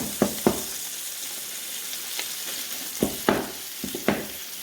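Steady close sizzling of ground beef frying in butter in a pan, with scattered scraping clicks from stirring and occasional louder pops.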